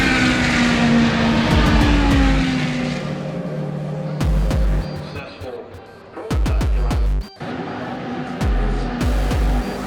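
Ferrari cars at the Ferrari Mondiale event roar and rev nearby, with one engine note sweeping up and then cutting in and out in bursts, while someone narrates over them.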